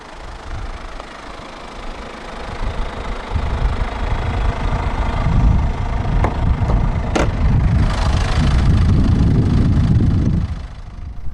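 A 2016 Kia Optima's 1.7-litre CRDi common-rail turbodiesel inline-4, with dual overhead cams and 16 valves, idles close by. Its steady, knocking diesel clatter grows louder a few seconds in and holds for the rest of the clip.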